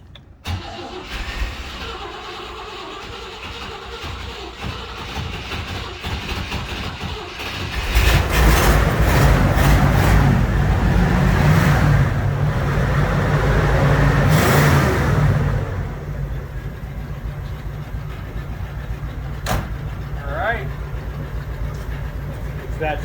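A 1959 Cadillac engine cranks and catches about eight seconds in, then roars loudly as it runs for several seconds before settling to a steadier, quieter idle. A voice talks briefly near the start.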